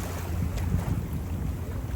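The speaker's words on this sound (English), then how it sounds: "It's a very windy, rainy Sunday, so not a lot of boat action today" Steady wind buffeting a microphone beside boats on the water of Whiskey Creek in Fort Lauderdale on a windy, rainy day, a continuous low rumble with faint lapping water underneath and no voices.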